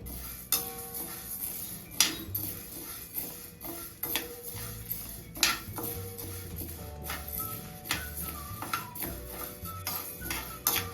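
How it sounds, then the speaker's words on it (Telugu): Toor dal dry-roasting in a dry pan over low flame, stirred constantly, giving steady scraping and rattling with repeated sharp metallic ticks and clinks of the spoon against the pan, close and fairly even throughout. "కందిపప్పు వేగుతుంటే మంచి కమ్మటి వాసన వస్తుందండి ఇలా స్లోగా లో ఫ్లేమ్లో పెట్టుకుని మాడకుండా కదుపుతూ వేయించుకోవాలి"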